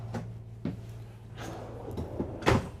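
Several short sliding thumps of drawers or cabinet doors opening and closing nearby in a Newmar Ventana 4369 motorhome, with a low hum underneath and a louder bump at the end.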